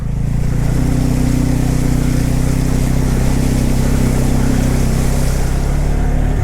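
A Bajaj Pulsar N250 motorcycle pushes through a flooded canal, its engine drone buried under a loud, continuous roar of churning, splashing water that stays steady from start to finish.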